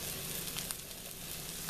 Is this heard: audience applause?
no